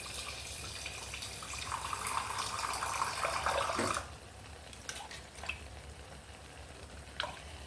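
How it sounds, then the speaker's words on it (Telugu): Water poured into a pan of gongura curry with brinjal for vankaya gongura pulusu: a steady splashing pour lasts about four seconds, then stops, leaving a few faint drips and small clinks. No one talks. "కొంచెం నీళ్లు పోసుకుందామండి."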